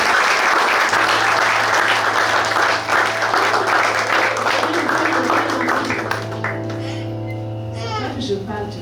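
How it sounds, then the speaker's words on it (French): A church congregation applauds a churchgoer with loud, sustained clapping that gradually thins, while a voice and a low sustained tone continue underneath. "On veut bien l'applaudir."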